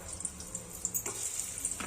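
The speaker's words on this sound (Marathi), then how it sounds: "थोडीशी कांदे टाकूया।" Onion and garlic fry in a little oil in a pressure cooker, a moderate close sizzle with a few stirring clatters, no voices.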